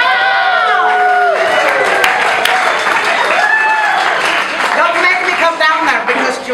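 Live show audience at a drag-style stage show, loud sustained clapping mixed with howls, whoops and shouted cheers, dense and close, easing off slightly near the end.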